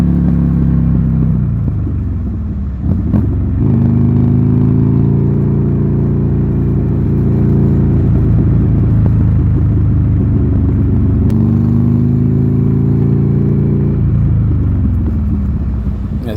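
Buell Lightning XB12S motorcycle being ridden, its engine droning loud and close with a low rumbling tone that rises and falls through gear changes, steady throughout with wind noise.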